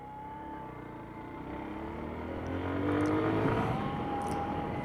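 A Lifan KP-Master 200 scrambler with a single-cylinder engine, running steadily and building slightly in loudness, a mid-distance drone with a faint whine on top, heard alone without talk.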